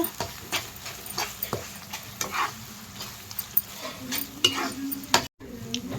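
Onions and ginger paste fry in a pan for chicken biryani, giving a soft continuous sizzle broken by scraping stirs and the clinks of a spoon against the pan, fairly close and moderately quiet.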